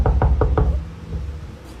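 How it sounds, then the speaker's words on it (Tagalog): Four loud, evenly spaced knocks strike a cabinet in an abandoned school, each a hard hollow thud, followed by a quiet ringing tail. "Sa cabinet, yung katok."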